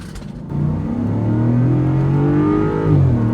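A Land Rover Defender 90 V8 engine accelerating hard, a deep, loud, throaty roar whose pitch climbs steadily as the revs rise, heard close from inside the vehicle with no talking.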